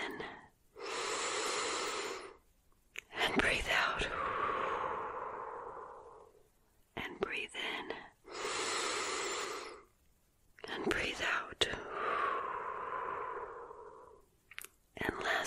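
A person breathes slowly in and out during a close-miked binaural ASMR reiki session, with long airy inhales and exhales in two full cycles separated by short pauses.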